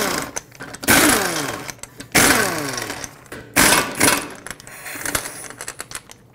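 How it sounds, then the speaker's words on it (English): Lug nuts being spun off a wheel hub of a 2005-2010 Chrysler 300 with a 21 millimeter socket on a power tool: three loud, close rattling bursts with falling pitch, separated by short pauses, no talk. "you can take your 21 millimeter socket and remove all five of your lug nuts"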